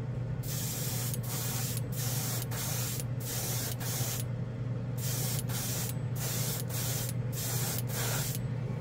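A spray gun lays a slow, close wet coat of Splash color shift paint in a booth, firing repeated hissing bursts of about a second each, separated by short pauses, over a steady low hum of booth ventilation.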